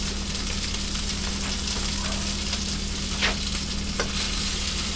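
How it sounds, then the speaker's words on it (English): Burgers for a pizza burger sizzle steadily on a grill, a constant close hiss with a couple of brief scrapes or clicks as they are flipped, no talking. "that's why I need to flip these burgers"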